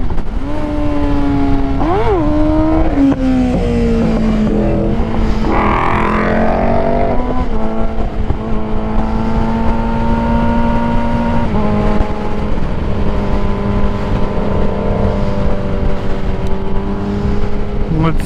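A Ford Mustang GT engine drones loud and close as the car accelerates, its pitch rising and dropping at gear shifts before settling into a steady high cruise with constant road and wind rumble.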